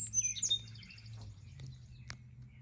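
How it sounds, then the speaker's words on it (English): Songbirds chirp in a backyard garden near a finch feeder, with bright high tweets clustered at the start and a sharp call near the end over a low steady hum. "Hear the birds?"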